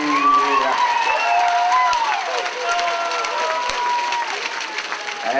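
At a boxing match, the crowd applauds and cheers the winner after the decision is announced, steady clapping mixed with whoops and shouts, while an announcer's voice rings over the arena.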